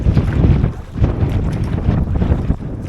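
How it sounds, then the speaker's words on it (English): A strong gust of wind on a lake in the Boundary Waters in late fall roars loudly and continuously. It buffets the microphone with heavy rumbling noise and no talk. "Wind just pushed my hat right off."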